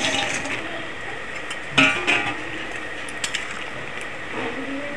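Fried split-pea fritters drop into a simmering potato curry in a pot, a sharp clatter and soft splashes near the middle, then a few light clinks of a utensil against the pot over a low background hiss.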